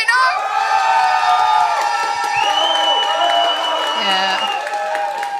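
A game-show audience cheers loudly for contestants, a dense wash of whoops, shouts and high excited voices sustained throughout, with some clapping mixed in.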